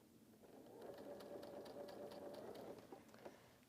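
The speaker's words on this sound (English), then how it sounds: "Okay, let me sew this together." A sewing machine stitches quilt block sections together, its steady mechanical whirr running for a few seconds at moderate, close volume with no talking.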